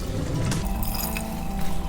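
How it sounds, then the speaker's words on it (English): Water pours steadily into a simmering tomato and potato gravy, a continuous close splashing gush that runs throughout. "you can add about half a cup or about 1/4 cup of water"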